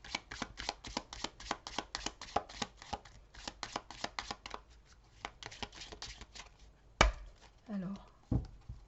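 Venezia tarot cards are shuffled in a quick, steady run of crisp riffling snaps for about five seconds, then a single sharp slap and a few softer handling sounds follow, close and fairly quiet.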